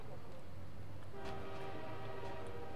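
A train in Half-Life 2 passing nearby with a sustained horn blast, heavy rumbling underneath, short and fairly loud, with no talk.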